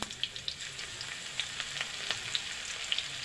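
Chilli, cumin and ground garlic sizzle and crackle steadily in hot oil, with scattered sharp pops over a constant frying hiss, close by and fairly loud.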